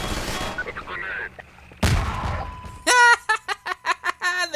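A grenade goes off in the shooter Half-Life 2, one sharp, heavy blast midway, followed by a run of clipped, radio-like voice bursts and a voice earlier on.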